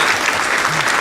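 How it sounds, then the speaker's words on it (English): Steady applause from a crowd at a live roundtable broadcast, dense clapping sustained throughout at an even loudness. "He's going with the applause."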